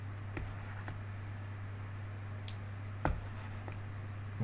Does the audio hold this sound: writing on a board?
yes